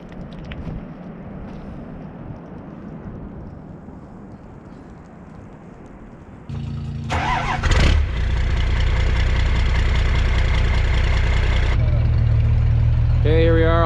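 Vehicles idling and warming up outdoors on a cold morning, a steady low engine rumble that swells louder partway through as another engine joins, continuous and close.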